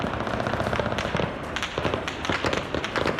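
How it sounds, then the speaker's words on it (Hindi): Gunfire rattles through the streets of Baghdad during violent clashes, dense rapid cracks and pops crowding one another with echoing reverberation, loud and continuous without talk. "कई इलाकों में काफी देर तक गोलियों की तड़तड़ाहट गूंजती रही"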